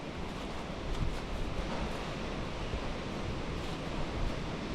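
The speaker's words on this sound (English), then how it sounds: "It's windy as well," Steady wind roars and buffets the microphone, a dense continuous rush with slight gusts and no other sounds.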